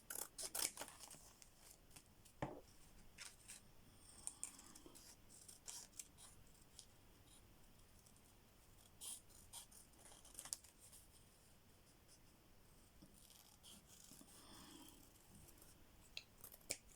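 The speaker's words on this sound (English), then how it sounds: "I'm going to cut this one out as well" Scissors snip through brown paper while a handmade Christmas tag is cut out, giving a long run of quiet, irregular cuts and light paper crinkles, close to the listener and with no talking.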